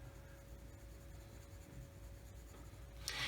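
Colored pencils scratch softly across paper in a quiet room, a faint continuous drawing rasp ending in a brief, brighter stroke.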